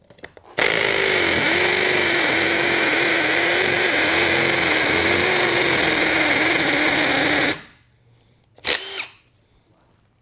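A Ryobi One+ HP cordless power drill runs loud and steady for about seven seconds, then cuts off abruptly, followed by a brief faint whir or click.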